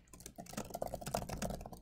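Quiet, rapid keystrokes on a computer keyboard patter in an irregular stream while login details are typed for a school Zoom setup.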